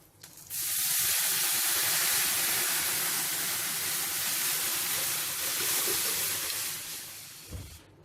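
A hot tempering of garlic, dried red chillies and curry leaves poured into tomato rasam, giving a loud continuous hissing sizzle up close that lasts several seconds and slowly fades, with a soft knock near the end.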